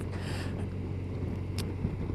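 Honda Crosstourer motorcycle with DCT in sport mode, engine braking in a lower gear for twisty bends, giving a steady low drone mixed with strong wind buffeting across the microphone.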